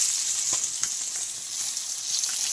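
Sardines sizzle and spit in hot oil in a frying pan, a steady close broadband crackle with scattered sharper pops throughout and no talking.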